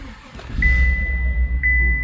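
A car engine with a misfire on cylinders 3 and 8 cranks and catches to a loud, rumbling idle, while a thin steady electronic beep sounds alongside it.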